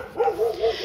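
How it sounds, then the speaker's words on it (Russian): Dogs barking close by in a street in Dnipro, a quick pair of yappy, slightly whining barks in under a second, loud and near with no talk over them. "Ну, ты посмотри, все собаки."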